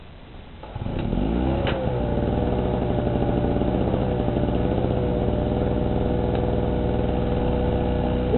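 A small oil-mix generator engine starts up and settles into a steady, buzzing run, close and loud, with a constant rough drone and no talking.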